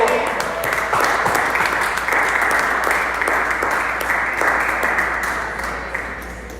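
A church congregation bursts into sustained applause, dense overlapping clapping filling the room, loud and close, with voices mixed in and slowly tapering toward the end.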